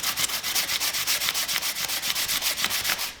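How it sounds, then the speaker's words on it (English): 120 grit sandpaper on a sanding block rubbed along the edges of a wooden farmhouse corbel, quick regular back-and-forth strokes, close and rasping, with no talk. "120 grit sandpaper on my sanding block"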